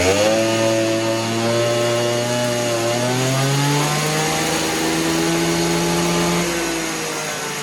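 A Stihl 200T clone chainsaw with a modified exhaust and advanced timing screams on a dyno, its loud, close engine note climbing and shifting in pitch as it revs under load, with no voices.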